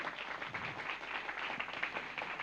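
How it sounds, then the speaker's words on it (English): An audience applauds at a public policy dialogue event, with dense, steady clapping sustained throughout at moderate loudness and no talk on top. "Can we give a big round of applause?"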